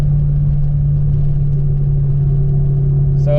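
A Fox body project car cruises onto a highway, its engine giving a steady low drone and road rumble that holds constant throughout, close and fairly loud, with no talking.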